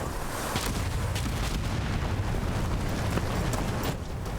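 Cannon fire from Antaam forces during a battle in Dragon Age: The Veilguard, a dense, continuous roar of booming blasts and rumbling explosions that stays loud and sustained throughout, with no talking.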